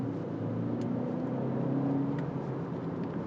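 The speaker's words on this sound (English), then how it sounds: "Now, as far as the road noise, it's a fair amount." Steady road noise and engine hum inside a 2024 BMW X2 xDrive 28i while driving, a constant low rumble with faint tire roar, even and unbroken throughout.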